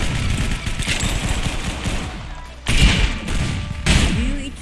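AR rifle gunfire in the Roblox video game, rapid automatic bursts in quick succession with a couple of louder, heavier blasts near the end, close and sharp.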